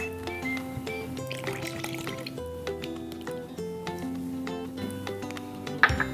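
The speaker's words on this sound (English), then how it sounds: "you're going to need 3 tablespoons of milk" Three tablespoons of milk poured into chocolate chip scone mixture, a soft wet splash and squish over a background hum, with a brief clink near the end.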